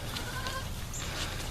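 A goat bleats on a farm among other goats and livestock, short calls over a steady dense background noise, moderately near.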